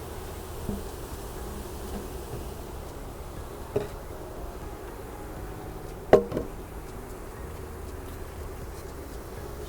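A continuous droning buzz of many honeybees being installed into a hive, close and steady, with a few sharp knocks and clicks breaking through.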